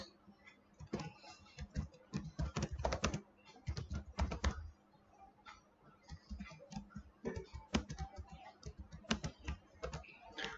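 Code is typed on a computer keyboard in irregular quick bursts of light key taps with brief pauses, close and soft, and no one speaks.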